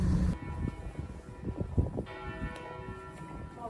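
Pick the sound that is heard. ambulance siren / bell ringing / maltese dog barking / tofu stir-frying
bell ringing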